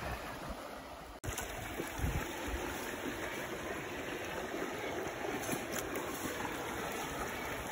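The Israel River flows steadily near Jefferson, New Hampshire, a broad, constant wash of moving water heard close and alone throughout.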